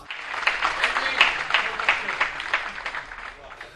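Applause from the audience of a comic Eid mushaira poetry gathering greets the poet Dr. Fakhar Abbas: dense, steady clapping from many hands, sustained at moderate loudness throughout.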